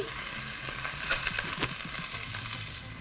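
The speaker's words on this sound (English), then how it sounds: "a little bit more oil in here. And I'm going to add in some red onion" Red onion sizzles in hot oil in a pan, a close, steady frying hiss with a few soft stirring scrapes and no voices.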